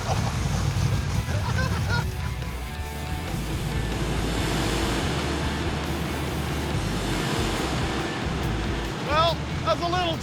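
A Mazdarati 2.0 project car doing a burnout, spinning its tires to raise smoke: a loud, steady roar of engine and tire noise that barely changes across the whole stretch.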